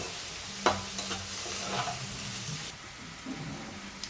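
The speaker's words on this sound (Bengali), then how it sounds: "ভেজে রাখা বেগুনকেও আমি একসঙ্গে কষিয়ে নিলাম" Fried eggplant being stirred and sautéed with spice paste in a pan, a steady soft sizzle with scraping stir strokes, a sharp clatter early on, close and moderately quiet.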